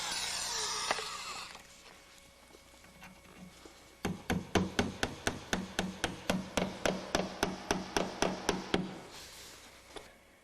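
A hammer drives nails through baseboard into a stud at a mitered joint during finish carpentry: about eighteen sharp, evenly spaced close blows in a steady rhythm, after a stretch of dull rustling and handling.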